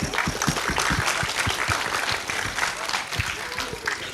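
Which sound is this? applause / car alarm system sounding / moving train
applause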